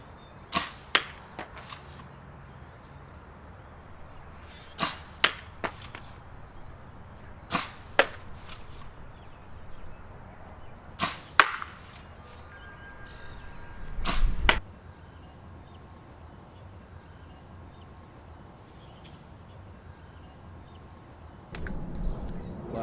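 Harrier dart blaster firing ten Worker Gen 3 purple darts outdoors, each a sharp pop followed by a short whoosh, spaced irregularly over the stretch, with faint birds chirping in the background.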